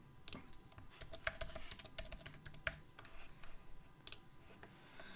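Computer keyboard typed on at close range with a run of quick, uneven key clicks, faint and sharp, easing off toward the end with no voices.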